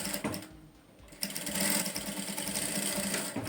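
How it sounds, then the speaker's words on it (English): A sewing machine stitches a straight line along a hidden button placket, running steadily and close after a brief quieter pause, with a continuous mechanical whir and a rapid needle rhythm. "then we'll stitch it down on a straight line"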